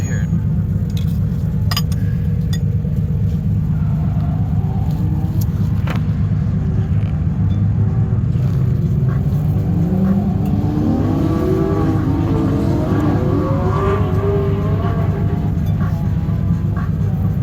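A drift car with a leaking rear main seal idles loudly, then revs up in a rising sweep around the middle and holds at higher revs, with small metallic clinks on top.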